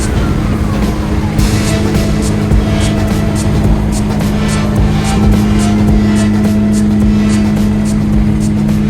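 Ford Mustang with a manual transmission being driven, its loud engine droning steadily from inside the car as a continuous low rumble with no talk.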